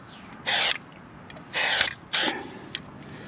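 Three short aerosol bursts of Fluid Film undercoating sprayed onto a vehicle's underside, each hissing for about a quarter second with brief pauses between, close and fairly loud over a quiet background.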